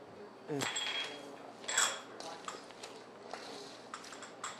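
A utensil stirs coleslaw with caraway seeds and sugar in a bowl, giving close, intermittent clinks and scrapes of varying loudness.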